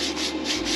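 A wire brush scrubs a fresh weld on a tractor loader repair, making a short, steady, close abrasive rasp.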